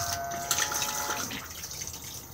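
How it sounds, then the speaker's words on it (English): A Thetford cassette toilet flushing inside a Compass Capiro motorhome, a close, short gush of rinse water swirling in the bowl that tapers off after about a second. "and then push to flush just here."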